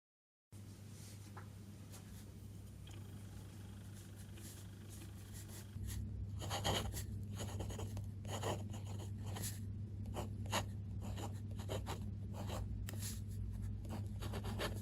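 Soft scratchy strokes of a Sailor TUZU fountain pen nib moving across paper, close and quiet, in short irregular bursts over a low steady hum.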